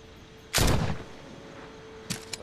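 A single loud gunshot rings out in The Walking Dead: Saints and Sinners video game, a sharp blast with a half-second rumbling tail, followed later by two smaller, quieter impacts against a low background hum.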